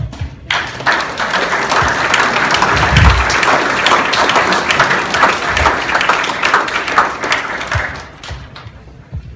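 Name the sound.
audience applause after keynote speech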